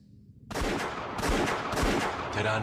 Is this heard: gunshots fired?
yes